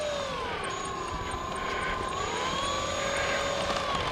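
A radio-controlled F4F-3 Wildcat warbird model airplane flies overhead at a flying field, its engine giving a steady buzzing drone that rises and falls in pitch as it passes.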